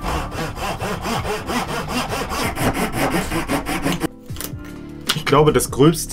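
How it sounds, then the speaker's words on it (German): A wooden wand is rubbed with sandpaper in steady, rhythmic back-and-forth strokes up close. The strokes stop briefly, then a few louder scrapes return while someone speaks German. "Diesen Feinschliff mache ich halt mit Schleifpapier."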